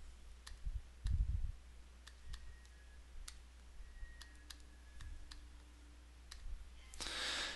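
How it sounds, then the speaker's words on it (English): Calculator keys are pressed in a scattered series of faint, sharp clicks at close range against a quiet background, with a soft rustle at the end. "and type this into the calculator."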